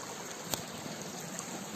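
A seasonal countryside stream flows with a faint, steady trickle and light splashes, quiet and unbroken.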